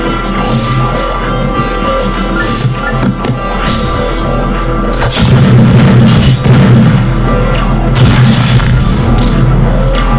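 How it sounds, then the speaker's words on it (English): Flashbang grenade blasts in the Madness Project Nexus video game: a loud, dense burst of booming detonations and cracking pops. It swells into a heavier rumbling roar halfway through, with no voices. "I was right about the flashbangs."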